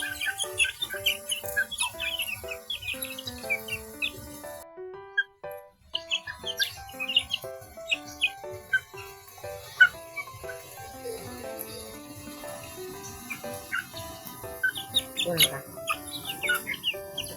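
Chickens cluck and chirp among other birdsong, with soft steady rain pattering underneath and a brief quiet gap partway through.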